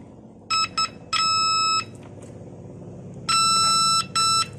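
A simple homemade electronic tester beeps while probing a diode, giving clipped high-pitched tones in short groups of two and longer held beeps, close and loud over a low background hum.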